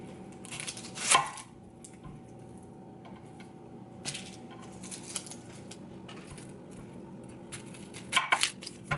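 A knife chops a large peeled onion on a cutting board, with a few sharp close chops near the start, middle and end over quiet kitchen background.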